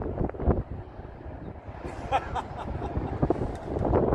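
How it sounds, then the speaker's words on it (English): Gusty wind buffets the microphone on the high grounds of Dover Castle overlooking the harbour, rumbling in uneven bursts close up for a few seconds. "Wind is stronger up here."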